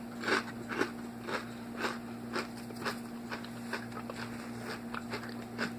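Someone bites and chews plain unsalted potato chips with vegan Vidalia onion dip. Close, crisp crunches repeat at an irregular pace over a steady low hum, with no talking.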